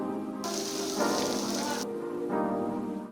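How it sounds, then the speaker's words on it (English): Steady rain falls during a monsoon outing at Monsoon Palace near Sajjangarh Wildlife Sanctuary in Udaipur, a continuous hiss of drops on surfaces that swells louder in surges and fills the whole span with no voices. "And of course it rained."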